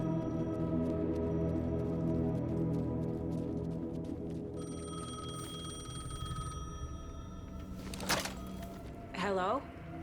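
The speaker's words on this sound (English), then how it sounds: "The payphone was ringing." A payphone rings inside the Alan Wake 2 video game, its bell-like trill bursting out briefly near the end over a steady droning game soundscape with overlapping voices.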